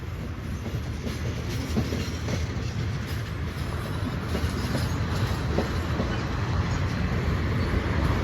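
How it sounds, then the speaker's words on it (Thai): Freight train slowing to cross the Rama 6 bridge over the Chao Phraya River in rain, a steady rumble with rhythmic wheel clatter, close and continuous throughout. "ขบวนสินค้านะครับผม กำลังเบาทางเพื่อที่จะผ่านสะพานพระราม 6 นะฮะ"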